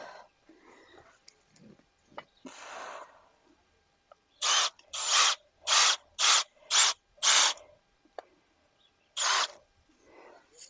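A power drill whirs in a series of short bursts, drilling holes in garden soil for pepper plants, about seven quick runs in a row and then one more after a pause, close by.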